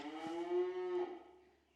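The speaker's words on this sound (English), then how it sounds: "cow in the background hollering at you" A single drawn-out moo from a cow in a milking barn, fairly faint and in the background, rising and then trailing away with no one talking.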